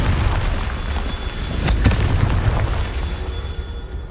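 A Confringo fire spell bursts in Hogwarts Legacy, a loud rumbling blast with a sharp crack near the middle, surrounded by dense roaring noise that carries through the whole moment.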